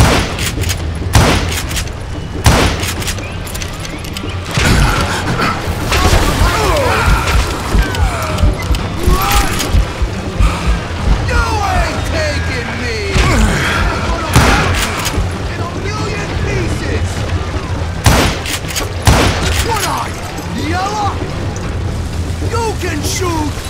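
Explosions and heavy gunfire in the Western shooter Call of Juarez: Gunslinger, with repeated loud booms and rapid shot bursts spread across a long battle, a voice speaking over the clamor at times.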